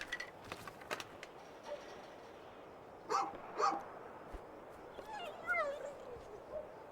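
Dog in the video game A Juggler's Tale gives a few soft barks and short whimpering yips, faint and scattered over a steady background of ambient music and noise.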